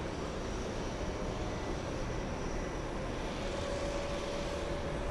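An Air India airliner comes in to land on a hazy day, its jet engine roar a steady, broadband wash that holds at an even level throughout, fairly distant rather than close overhead.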